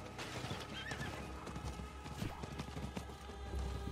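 Horse hooves clip-clop steadily in a quick riding rhythm with a neigh and whinny over it, a mounted horse in the Diablo IV video game, heard fairly faint against game background sound.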